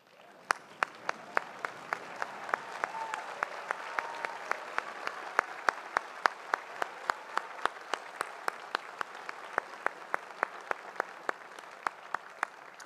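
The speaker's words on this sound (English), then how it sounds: "I would ask that you please join me in a standing ovation to thank and recognize the faculty for their support and contributions" Sustained applause from a large graduation audience giving college faculty a standing ovation, steady dense clapping throughout with sharp individual claps standing out near and loud, no talking over it.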